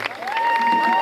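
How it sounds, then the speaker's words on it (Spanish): Concert audience at a live Christian worship event in Chichicastenango clapping and shouting praise to Jesus Christ, a dense crowd roar under a sustained musical tone, brief and loud. "dele esas palmas a Cristo Jesús y dele su mejor grito en esta noche"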